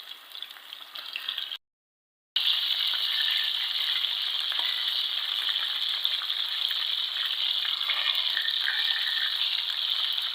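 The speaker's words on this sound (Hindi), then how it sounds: "फिर इस तरह से हमें थोड़ा थोड़ा करके जो इसे बिल्कुल हल्का सा गोल्डन कलर तक इसे हमें फ्राई करना है" Flour-coated chicken pieces fry in a pan until golden, giving a steady, bright, hissing sizzle with light crackles, cut by a brief silence early on.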